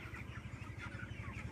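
Young chicks in a poultry farm shed make soft, rapid, overlapping chirps and clucks, busy and fairly close against a low mechanical hum, with no talking.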